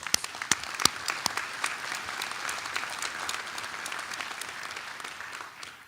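Audience applause at a medical school commencement ceremony in South Georgia, a steady wash of many hands clapping that holds for several seconds with a few sharp claps near the start, then begins to fade at the end.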